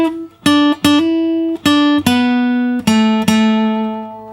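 Acoustic guitar plays a slow solo phrase from a song, about seven clear picked notes ringing and sustaining one after another, close and alone.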